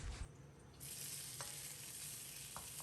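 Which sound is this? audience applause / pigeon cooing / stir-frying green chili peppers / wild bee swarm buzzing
stir-frying green chili peppers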